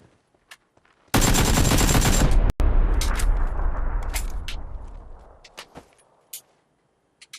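A loud burst of rapid video game gunfire rattles for about a second and a half, then a few scattered single shots and clicks follow as the noise decays.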